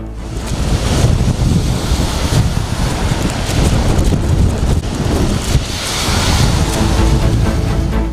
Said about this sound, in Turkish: Kuşadası'nı ve bölgeyi etkisi altına alan kuvvetli fırtına ve sağanak yağmur gece boyunca ve sabah saatlerinde de etkisini sürdürdü.